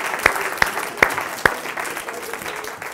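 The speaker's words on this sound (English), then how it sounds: "Give yourselves a round of applause" Applause from a live speaking-event audience, steady clapping with a few sharper claps standing out near the start, fairly close and continuous throughout.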